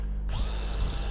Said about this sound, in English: So to cut the sockets out, just drill 4 holes